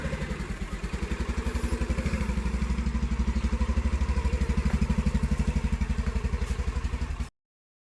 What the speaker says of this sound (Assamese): এই গাড়ী ষ্টাৰ্ট দিছোঁ, যাওঁ।